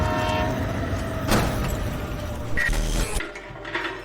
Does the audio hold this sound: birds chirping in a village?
no